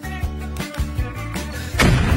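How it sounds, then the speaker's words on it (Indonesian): A cartoon chocolate explosion effect from a kitchen candy-versus-chocolate challenge: a series of deep booming thumps builds into a loud, crackling burst near the end, with no voices. "Nah, itu adalah ledakan coklat."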